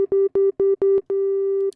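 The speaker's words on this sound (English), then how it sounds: "All right, here's a sine wave." A pure synthesizer sine tone from the Serum soft synth, undistorted, played as a run of short repeated notes and then one longer held note. It sounds clean, steady and close, with no voices.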